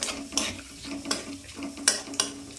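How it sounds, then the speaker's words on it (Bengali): Cumin, bay leaf, crushed cinnamon, cloves and cardamom fry in oil left from frying potatoes, under a soft hiss. Four or five sharp spatula scrapes against the pan punctuate the sizzle, and nobody speaks. "যতক্ষণ না ভাজা হয় ততক্ষণ নেড়ে নিলাম"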